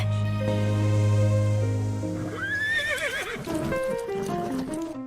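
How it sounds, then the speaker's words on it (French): A horse whinnies loudly and close by, a long quavering neigh rising and falling over a sustained musical drone. "Arrête, cheval stupide!"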